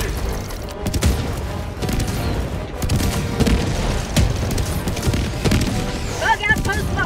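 In Helldivers 2 gameplay, repeated booming blasts from a grenade launcher roll along with dense gunfire, a continuous loud battle din that lasts throughout.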